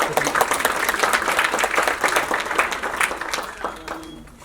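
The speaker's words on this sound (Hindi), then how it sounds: "एक बार जोरदार तालियां कुलदीप सर के लिए" Loud, dense applause from an audience at a Shimla foundation-day ceremony, honouring Kuldeep sir, steady for several seconds before gradually thinning out toward the end.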